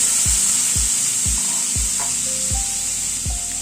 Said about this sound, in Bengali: এবার যেটুকু ঘি আছে তাতে পনিরটা হালকা করে ভেজে নিচ্ছি।